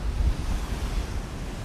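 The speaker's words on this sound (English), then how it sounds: "Tropical breezes, as you can hear in the microphone." Tropical sea breeze buffets the microphone with low rumbling gusts while waves and surf wash below the Cliffs of Fortesque, a brief loud roar with no voices.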